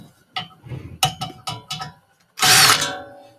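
A socket wrench ratchets quickly as bolts are removed during a muffler disassembly, a close run of sharp clicking bursts followed by a louder rasping clatter.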